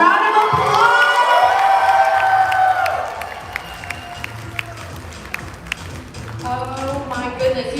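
Audience applause and cheering at a reception, loud clapping and shouts fading after a few seconds into scattered claps and chatter, then talking resumes.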